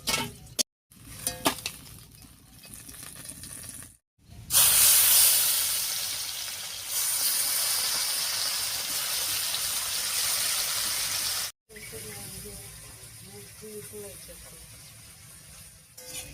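Fresh river fish, mixed village catch, frying lightly in hot oil in a village-style kitchen, giving a steady loud hiss and sizzle that runs for several seconds between short breaks, with speech nearby.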